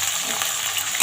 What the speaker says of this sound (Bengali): প্রত্যেকটা সবজিতে আমি নুন হলুদ দিয়ে ভাজবো